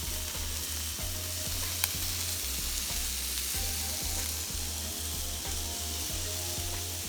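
Steady close sizzling of a burger and bread frying together in a pan, a dense continuous crackle with periodic stirring or scraping knocks, no talking.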